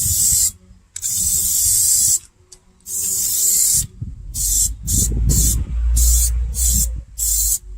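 Bursts of aerosol spray as Plasti Dip rubber coating is applied in light coats to Ford Mustang wheel rims, several hissing passes of a second or so each, separated by short pauses and low handling noise.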